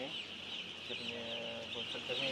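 Chickens cluck repeatedly on a poultry farm, close and continuous, with a faint voice speaking in the background.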